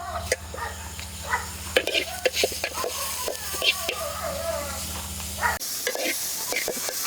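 Onion, tomato and chilli roast in a pan at a village crab cook, with a steady sizzle and repeated scraping stirs close by, while a voice talks softly over it.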